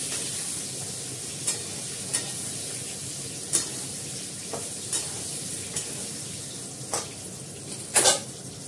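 Dried red chillies fry along with potatoes in a pan, giving a constant close sizzle broken by about ten sharp scrapes and clinks from a spatula, spaced irregularly and bunched near the end.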